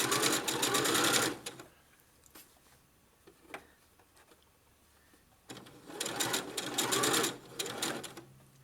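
A sewing machine stitches in two loud, fast, even bursts, with a quiet pause between them that holds a few soft clicks.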